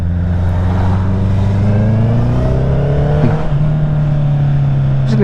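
A lorry droning steadily on the road beside a Honda CB650R motorcycle, its low engine hum loud and close, with the bike's own engine note rising slightly as it moves along.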